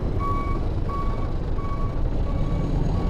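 A truck reversing on a busy road, its backup alarm sounding a steady series of evenly spaced beeps over heavy engine rumble and traffic noise.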